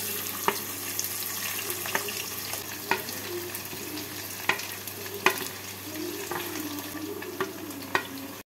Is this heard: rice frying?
yes